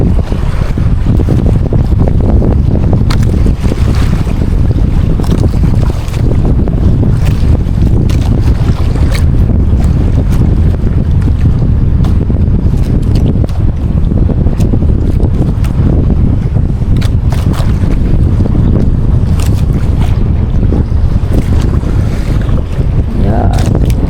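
Strong, steady wind roars and buffets the microphone on an open boat, with water rushing beneath a constant low rumble throughout.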